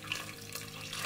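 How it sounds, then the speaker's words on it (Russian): Hot water pours steadily into a multicooker nearby, a soft continuous splashing rush, quiet and unbroken. "Заливаем это все обязательно горячей водой."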